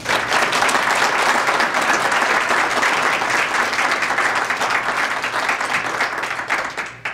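An audience at a lecture on three major pandemics applauds steadily as the speaker is welcomed to the podium. The clapping stays dense and loud throughout and tapers slightly near the end.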